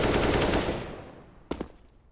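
Counter-Strike gunfire on the Dust 2 map: a loud, rapid automatic burst that rolls off into a fading tail, followed by one shorter sharp report near the end, with no talk over it.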